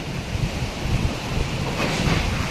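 Steady roaring typhoon wind in Bicol buffets the microphone, a broad rushing noise that never lets up across the whole moment.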